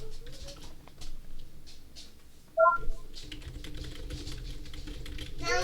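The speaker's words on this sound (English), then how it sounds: "I was typing." Computer keyboard typing during a live stock day-trading session, a patter of quick key taps that comes and goes over a soft room background, with faint tonal computer sounds and a brief louder burst midway.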